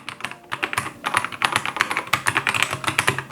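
An email address being typed on a computer keyboard: a fast, steady run of close, crisp key clicks with a brief pause near the start, continuing without talk.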